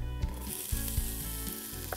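Chopped onions sizzle in hot oil as the base of a beer-braised rabbit, a steady crackling hiss punctuated by a few soft knocks of stirring.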